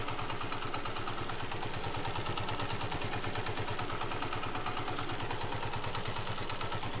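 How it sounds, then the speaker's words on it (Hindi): A restored 2013 Honda CG125 motorcycle engine idles close by, a steady, even mechanical putter with light clattering and no change in pace. "एक मरतबा हम इंजन की भी साउंड सुनेंगे"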